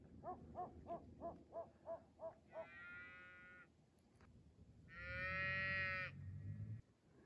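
A bottle-fed calf in the snow gives several short, rhythmic bleats followed by two longer, louder moos, fairly close by, with no talking.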